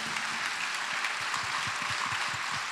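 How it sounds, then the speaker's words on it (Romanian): Audience applause at a traditional carol concert and album launch, a steady dense wash of clapping from a crowd held evenly throughout without voices. "pentru că merită să fie aplaudate."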